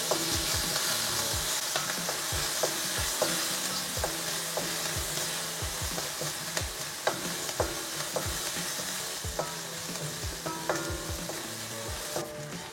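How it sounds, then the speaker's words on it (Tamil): Garlic and green chillies sautéing in a pan for vegetable samosa filling, a steady sizzle punctuated by frequent sharp clicks and scrapes of a spoon stirring against the metal, no voices. "இந்த உள்ளியும் பச்சை மிளகாயும் வதங்கும் போது"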